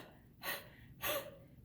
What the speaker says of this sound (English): Do you remember how to do the huff cough?